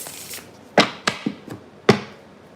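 Tarot cards are shuffled close by in a few quick, crisp slaps and riffles spaced irregularly through a quiet background.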